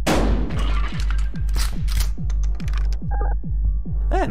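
Shotgun blasts in the video game Buckshot Roulette, a rapid series of sharp booming shots with short regular gaps, loud and close, followed by a ringing electronic tone at the end.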